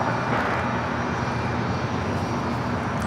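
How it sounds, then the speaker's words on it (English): Volaris Airbus A320 taking off from LAX, a steady broad engine roar with a low rumble that holds at an even, moderately loud level throughout. "It's Volaris. Flight 923 in this A320. There he goes."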